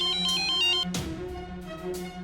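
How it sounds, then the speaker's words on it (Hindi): A mobile phone ringtone plays nearby: a repeating melodic electronic tune, fairly loud, with a brief thump partway through and the tones continuing afterward. "इस फोन से ना हम परेशान हो गए हैं। जब देखो बजता रहता है, चाहे दिन हो रात।"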